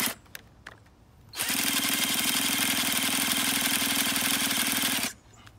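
A Traxxas Nitro Rustler RC car's small nitro engine catches after a few faint clicks and screams into a loud, buzzy, high-revving run for about four seconds before cutting out.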